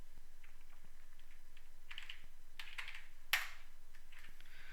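Someone types on a computer keyboard while writing Python code, soft, quick key clicks in irregular bursts with one sharper, louder keystroke near the end, all close and quiet over a faint steady hum.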